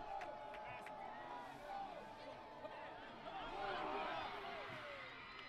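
Spectators at a high school football playoff game stand in anticipation before a third-and-eight play, a steady crowd hubbub with scattered whoops and cheers that swell briefly near the end.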